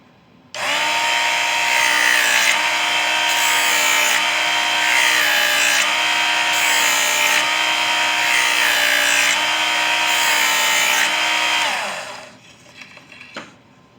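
A power knife sharpener grinds a Swiss Army knife blade in a loud, continuous motor whine, with regular rhythmic strokes pulsing across both sides for about eleven seconds before the motor spins down and stops.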